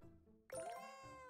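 A short cartoon cat meow sounds in the video game Cats and Seek Dino Park, a bright, tonal chime-like mew arriving after a soft musical background, clean and close with no talking.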